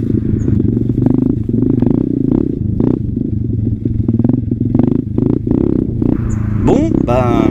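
A motorcycle rides over a bumpy mown field: a continuous, close engine rumble broken by rhythmic jolts and clattering bumps, with brief voice-like sounds near the end.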